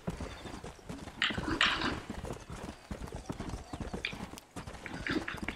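Horse hooves clip-clop in a steady, continuous rhythm in the video game Red Dead Redemption, fairly quiet and close, with a faint whinny-like sound briefly over them.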